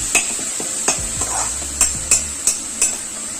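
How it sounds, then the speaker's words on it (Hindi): Masala stirred and frying in a pan while cooking dhaba-style paneer, with repeated sharp spatula scrapes and clinks against the pan over a steady bright sizzle, close and fairly loud, no talking. "ये हमारा मसाला भुजा गया है।"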